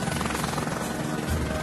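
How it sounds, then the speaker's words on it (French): A ski resort's private rescue helicopter thrums with a loud, continuous rotor roar, close and steady throughout, with no speech. "le blessé sera évacué par l'hélicoptère privé de la station"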